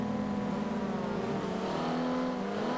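A 1950s Ferrari race car in Forza Motorsport 5, its engine holding a steady high-revving drone with dense harmonic whine, heard continuously up close without talk.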